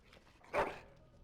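A dog in the video game Dragon Age Origins gives a single short bark-like yelp that trails into a soft whimper, brief and moderately close over a quiet background.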